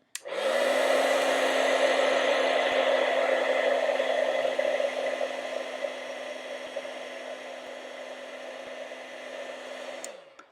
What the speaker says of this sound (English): grab your heat tool, and we will heat this